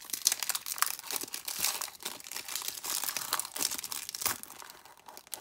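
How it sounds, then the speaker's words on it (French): Plastic wrapper on a Pokémon booster pack from a 25th-anniversary Charizard box is torn and crinkled, a steady run of crisp rustling and ripping bursts close up, with no talking. "bon là j'ai clairement arraché le plastique, c'est vraiment pas bon"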